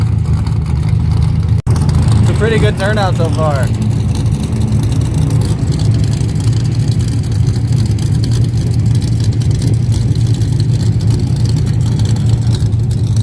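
A car's engine runs steadily with a low rumble while it is taken off a trailer at a track tech inspection, with a brief revving burst early on and a voice speaking over the engine.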